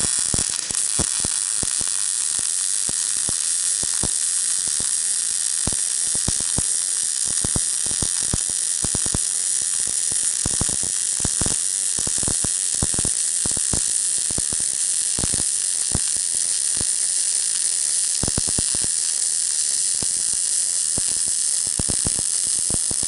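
Welding a steel vise stand for a roll-around shop stand, a steady close crackling sizzle of the arc that runs without pause, broken by frequent short sharp pops and bursts.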